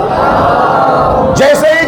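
Large crowd at a Muharram majlis roaring a religious slogan in unison, a loud, sustained massed shout filling the hall and rising into a higher cheer toward the end.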